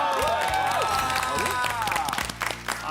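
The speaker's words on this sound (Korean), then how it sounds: "우리 저 환희 노래 한번 박수" A studio audience breaks into steady clapping and cheering on a Korean TV variety show, a dense burst of applause with whoops and excited voices over it.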